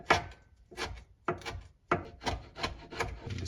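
A knife cuts through a Scotch bonnet pepper on a wooden board, with a series of close, crisp slicing and rubbing strokes roughly every half second, quiet overall.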